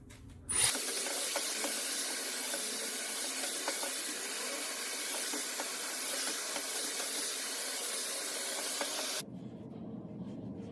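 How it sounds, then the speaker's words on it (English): Dyson round brush hair styler blowing air on a low setting with high heat, a loud continuous close hiss that starts abruptly and cuts off near the end, leaving quieter background noise. "I normally just use my Dyson round brush. Even though it blows air, I just turn the air setting down low in high heat"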